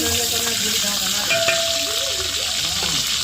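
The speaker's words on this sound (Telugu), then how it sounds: "పలావ్ దినుసులు అయితే వేసుకున్నాం కొంచెం లైట్గా ఫ్రై చేసేసుకోవాలి" Whole pulao spices frying in hot oil, a loud continuous close sizzle with occasional spatula scrapes and faint clinks of the pan throughout.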